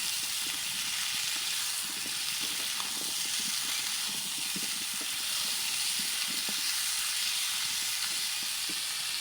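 Eggplant fries in a pan in a village kitchen with a steady loud hiss and sizzle, broken now and then by faint pops and crackles, with no talking.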